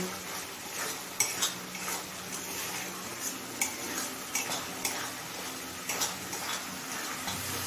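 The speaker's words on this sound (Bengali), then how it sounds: "এবার কিছুক্ষণ সময় নিয়ে মশলা খুব ভালোভাবে কষিয়ে নেব" Spice masala sautés in a pan with a little water added for egg chicken tarka, giving a continuous close sizzle punctuated by regular clinks and scrapes of a spoon stirring against the pan.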